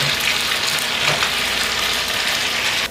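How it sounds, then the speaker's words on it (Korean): Finely chopped ingredients for jjajangmyeon sizzle and crackle steadily in hot oil, a dense, close frying hiss that drops slightly at the end. "노릇하게 튀겨주면 일단 먹을 때 예, 식감이 되게 좋더라고요"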